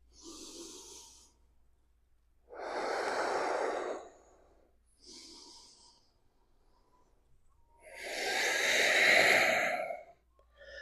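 A deep inhale and slow exhale during a vinyasa yoga flow, with several breath sounds: a short sniff, a long full breath, another short one, then a strong airy inhale-exhale near the end, close and clear without talk.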